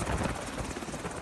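A US-built UH-1 military training helicopter flying, its dense rotor and turbine roar steady and continuous throughout, with a fast rhythmic blade chop under the wash.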